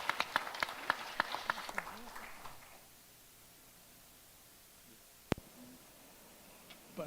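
Applause at the G20 Techsprint final event: a burst of clapping for the first few seconds that fades to quiet, with a single sharp tap later.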